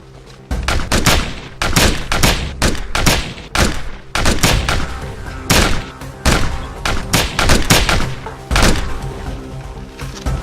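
Loud bursts of rapid gunfire with heavy booming shots, repeating in dense volleys throughout, like a firefight in a game.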